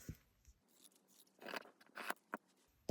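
Scissors cut away excess fabric while a bag is being sewn, making a series of close, crunchy snips that cluster in the middle of the clip. The sound is quiet with short pauses between cuts.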